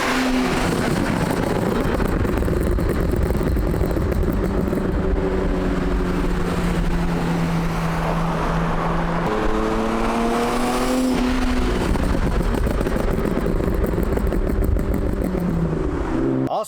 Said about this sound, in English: you can hear the Borla exhaust on the freeway or on the street